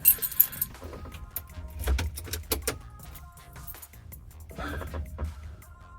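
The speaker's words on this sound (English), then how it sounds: "Need keys. That's what we need now." Keys jangling near a Land Rover Defender during cigarette lighter work, a few quick metallic clinks and rattles in short bursts early on, followed by quieter handling sounds and low background noise.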